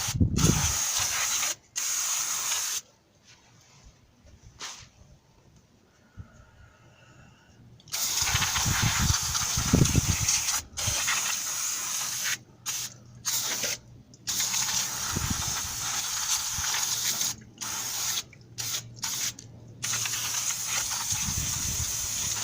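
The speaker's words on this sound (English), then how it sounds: "I'm going to go ahead and spray everything down with brake cleaner" Aerosol brake cleaner hisses in long loud bursts onto the rear axle of a 2000 Toyota Tacoma, broken by brief pauses and a quieter stretch, with no talking.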